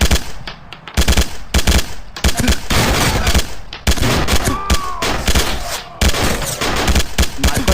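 Rapid bursts of automatic gunfire and scattered single shots from a shooting video game ring out loud and nearly continuous, layered with game sound effects and brief bits of voice.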